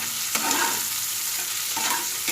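Onions frying in a pan with salt and being stirred, a steady close sizzle with a few scraping strokes of the spoon, no voices.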